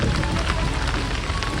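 Heavy rain falls steadily beside a river, a loud, dense, unbroken hiss of drops on surfaces with no pauses.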